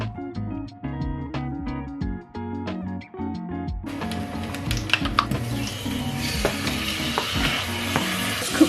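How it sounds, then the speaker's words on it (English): Sizzling of chicken frying in a pan rises abruptly midway as a steady, crackling hiss, following a stretch of plucked, tuneful music. "Just cooking off the chicken first before adding the rest of my ingredients."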